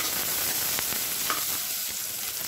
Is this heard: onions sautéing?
yes